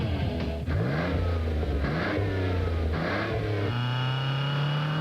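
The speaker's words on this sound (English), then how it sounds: "The Budweiser Ken Schrader stock car" A Budweiser stock car engine revs up and down repeatedly in a loud, continuous, close roar, alone with no talk.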